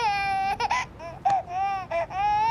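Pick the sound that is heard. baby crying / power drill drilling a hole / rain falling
baby crying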